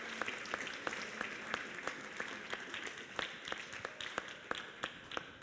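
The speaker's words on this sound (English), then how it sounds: "Huge round of applause for all three teams, Nitro 1, Nitro 2," Audience at a CYBATHLON brain-computer-interface race event in Graz, Austria, applauding the competing teams with steady, moderately distant clapping that continues evenly throughout.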